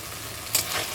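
Spices and chopped bottle gourd sizzle in hot oil in a pan, a quiet steady fry broken by a brief scraping stir midway, with no voices.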